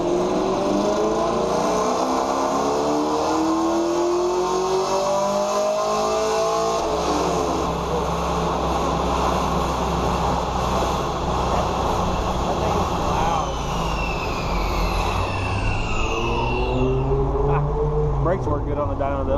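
A Camaro with bolt-ons running e85 revs hard on a mobile dyno, its loud engine climbing through the gears in long pulls, then winding down with a whine as the rollers slow.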